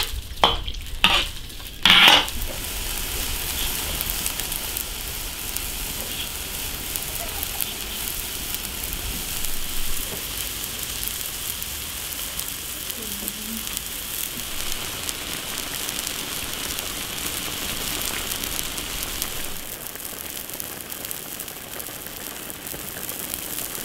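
Water and lard bubbling over high heat in a pot, a steady dense crackle and hiss that runs the whole time with a few louder knocks near the start, close and even, no voices.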